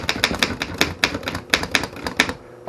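Crisp, hard clacks of a 1917 Underwood No. 5 typewriter strike in a quick, uneven rhythm, close and loud, ending with a brief pause.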